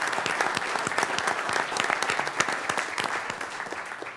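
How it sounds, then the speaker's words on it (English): Applause at a city council reorganization meeting for City of El Centro employees, a room of hands clapping steadily with sharp individual claps standing out, sustained for several seconds without talk. "give a round of applause to City of El Centro employees"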